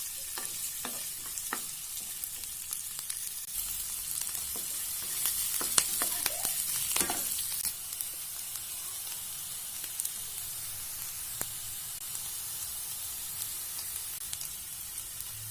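Onions fry in a pan until soft, giving a continuous, close sizzle with occasional clicks of stirring and scraping, steady throughout and with no voices.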